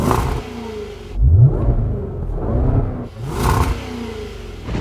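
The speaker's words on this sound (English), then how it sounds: "This car comes with an upgraded sports exhaust" A 550-horsepower Range Rover Velar SVA engine revs hard through its upgraded sports exhaust, throaty and rising in pitch, then settles into a burbling idle before a second rev, close and loud.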